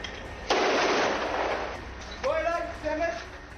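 Gunfire from advancing Israeli soldiers rings out as a loud, sustained burst that dies away, followed by shorter tonal bursts, heard close and dominating the scene.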